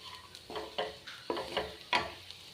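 Clam meat roast being stirred in a pan, about five distinct scraping strokes with soft sizzling between them, close and fairly quiet, no talking.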